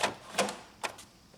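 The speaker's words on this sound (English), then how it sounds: "Insert the new maintenance box into the printer." A maintenance box is pushed into an Epson WF-5190 printer, giving a few quiet plastic clicks and knocks spaced irregularly across a second and a half, close and faint.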